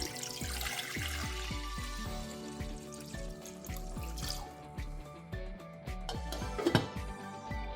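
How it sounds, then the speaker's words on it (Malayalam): Water pours into a pot holding eggs, a fairly quiet splashing and trickling with a rising, resonant tone as the vessel fills, close by and with no speech. "മുട്ട മുങ്ങി കിടക്കത്തക്ക രീതിയിൽ വെള്ളം ഒഴിക്കണം."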